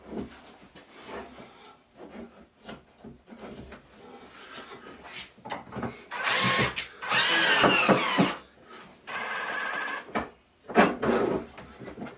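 A power drill deepens a screw hole for a drawer extension slider, running in two loud bursts with a quieter whir after them, close by, between stretches of handling noise in a workshop.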